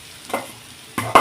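Fish curry being stirred in a pan, with two close, scraping swishes of a spoon against the pan over a low sizzle, the second stroke louder, and no voices.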